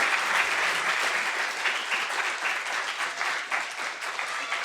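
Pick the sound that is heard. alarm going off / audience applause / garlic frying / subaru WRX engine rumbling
audience applause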